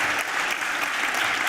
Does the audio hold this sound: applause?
yes